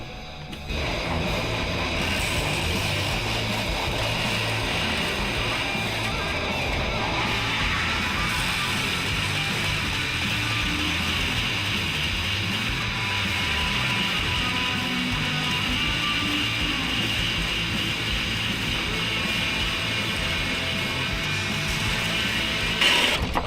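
A grinder with a small wheel shapes a steel 52100 karambit blade, a loud, continuous close whine and rushing grind holding steady throughout with slight shifts in pitch as the blade is worked; no talking.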